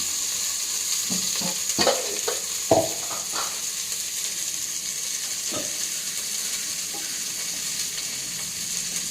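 Spices and onion fry in a pan, giving a constant close hiss of sizzling oil with a few scraping stirs and clinks early on, then a steady fry.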